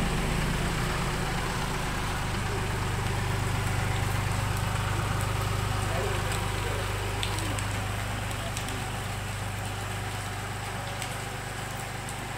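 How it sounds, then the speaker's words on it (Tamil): An Eicher BS6 coach van engine idling smoothly, a steady loud low rumble and hum that holds even throughout, close by with no voices. "இன்ஜினு நல்லா ஸ்மூத்தாக ஓடுது, சூப்பராக இருக்குது வண்டி."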